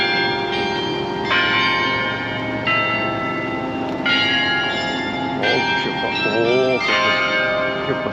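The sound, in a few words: bells ringing on a roof in Riga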